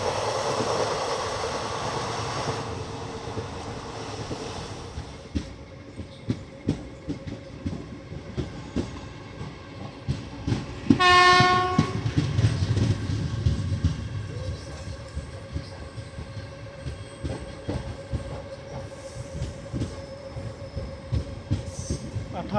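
Nandigram Express passenger train rolling past a crossing, wheels clattering in a steady rumble, with one loud sustained horn blast midway; a few faint voices under the noise.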